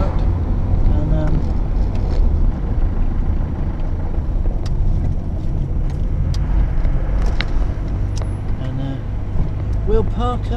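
A car rolls slowly into a packed car park, a continuous low engine and road rumble heard from inside, with small knocks and a faint squeak toward the end.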